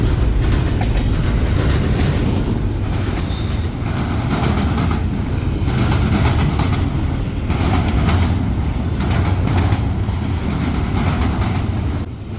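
A freight train rolls steadily past at night, a military train led by the KCS Grey Ghost locomotive with four CPKC units, wheels clattering in a dense, continuous rumble that holds close and loud throughout.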